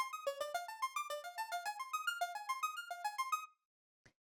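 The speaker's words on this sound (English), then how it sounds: "So the next layer here is this ARP," Bright synth arpeggio layer from a future beat, quick plucky notes climbing and falling in a steady repeating pattern, clean and alone, stopping abruptly with a faint tick after.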